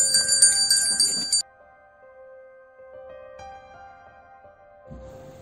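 A notification bell chimes a bright ringing tone in a horror podcast, followed by a long, fading resonant hum. A faint low rumble returns near the end.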